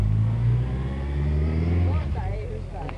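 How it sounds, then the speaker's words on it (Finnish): A newer bus pulls away on a Saturday evening in August, its low engine rumble steady and then easing off as it leaves, with voices talking over it. "Sieltä lähti uudempi bussi."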